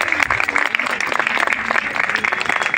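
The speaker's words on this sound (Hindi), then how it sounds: "जोरदार तालियां।" Audience applause after a stage performance about social media addiction, loud and sustained dense clapping from a crowd, close and steady for a few seconds with faint voices mixed in.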